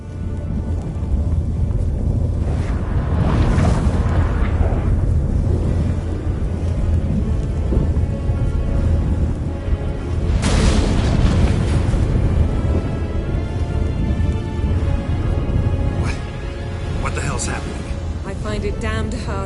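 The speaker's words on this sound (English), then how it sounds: "That a storm?" A stormy sky rumbles in The Witcher 3, with loud rolling thunder and rain noise running throughout and swelling into heavy bursts. Voices speak over the storm.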